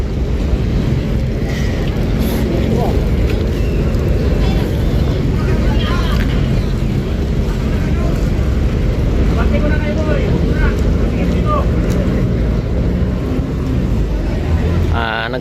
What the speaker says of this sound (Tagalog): Nagkanda traffic na yung mga bangka,